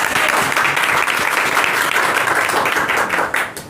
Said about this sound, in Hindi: चलिए एक जोरदार ताली।